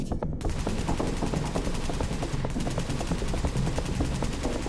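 Rapid, continuous assault rifle fire in The Division, a dense unbroken stream of sharp shots at steady high volume throughout, with a brief lull near the start and mid-way.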